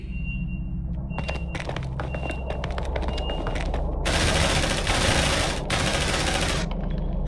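Rapid automatic gunfire in Aliens: Dark Descent: a dense, loud sustained burst in the middle of the clip, preceded by scattered sharp shots and faint electronic beeps over a low rumbling backdrop.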